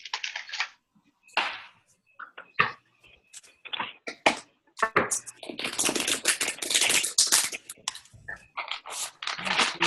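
Tarot cards are shuffled by hand, close-up riffling and sliding in irregular bursts, with brief pauses and a longer dense stretch of shuffling.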